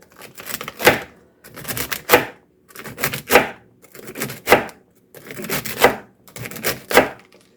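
Swiss chard chopped with a knife on a board, six regular bursts of rapid, crisp thudding strokes roughly a second apart, close and clear with no talk over them.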